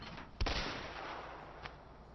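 A single sharp gunshot cracks in the video game A Way Out, loud and close with a short decaying tail, followed a second later by a fainter second pop.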